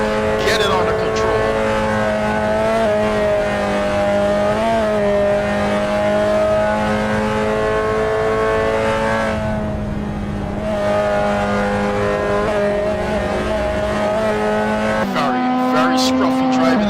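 Race cars in the Caribbean Nation's Cup at Lime Rock Park scream past, engines whining loudly and shifting pitch as they accelerate. A commentator talks over the racing.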